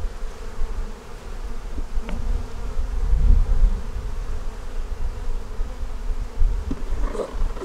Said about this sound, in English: We can take this one that's loaded up with bees and stuff.